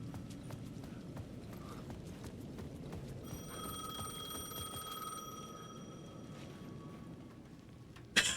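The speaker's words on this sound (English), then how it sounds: "The payphone at the edge of the plaza was ringing again." A payphone rings in the video game Alan Wake II, a faint electronic ringing tone lasting a few seconds over a low, rumbling background ambience.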